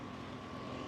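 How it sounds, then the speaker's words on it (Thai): A propeller airplane passes over Nam Sai Beach in Sattahip, Chonburi, heard as a steady, fairly faint drone with a sustained tone and no voices. "เครื่องบิน"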